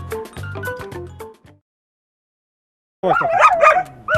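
Long-haired German Shepherd dog barking close and loud in a quick series of sharp barks, falling silent for over a second, then a louder burst of rough, overlapping barks and growly yips.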